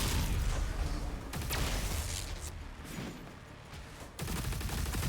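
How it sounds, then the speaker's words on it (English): Plasma machine gun firing in Doom The Dark Ages, dense rapid bursts of electronic gunfire with sharp cracks and booms, loud and continuous with a short lull before a renewed burst at the end. "This is a plasma machine gun."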